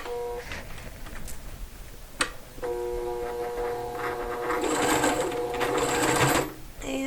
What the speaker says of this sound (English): So I'm going to go to the edge there and back stitch